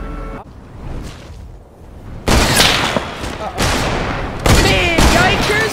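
Fortnite gunfire in a solo match: several sharp, loud bursts of shots cracking close by, with echoing tails and a brief quieter lull before the firing starts.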